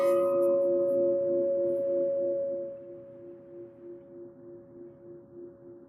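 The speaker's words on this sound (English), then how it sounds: "And now we will have our bell sound." A single bell struck at a Unitarian Universalist church service rings out with a clear sustained tone that slowly decays and lingers, gently pulsing, with no talking.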